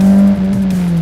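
A car being taken for a test drive roars loudly and close, its engine a steady droning hum with a slight dip as it pulls away.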